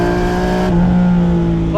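A heavily modified BMW E46 M3, capable of revving to 8,700 RPM, sings a loud, close engine note while driven hard, its pitch dropping abruptly partway through as the revs fall.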